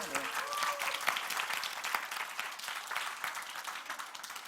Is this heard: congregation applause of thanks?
yes